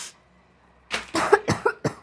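A person coughs in a burst of four or five harsh, close coughs after a silent start, in a kitchen while cooking for an office party.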